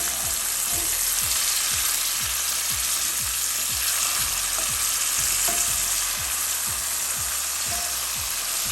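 Onion, green seasoning and minced garlic saute in a pot, a continuous loud sizzle broken by a regular rhythm of spoon scrapes and stirs, about two per second.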